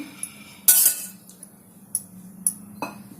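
A metal utensil spreading oil across a hot stovetop pan: light scattered clinks and scrapes, with one louder clatter, over a faint steady sizzle.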